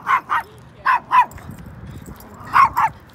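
Dogs at a dog park barking in three pairs of sharp, close, loud barks, with quiet gaps and faint background noise between them.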